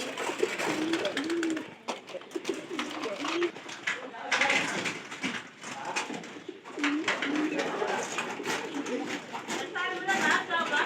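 Pigeons coo repeatedly in soft, low rolling calls at close range, with a person talking over and between the calls throughout.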